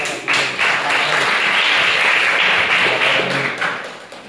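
Applause breaks out from a classroom audience, a dense wash of many hands clapping steadily for about four seconds before tapering off at the end.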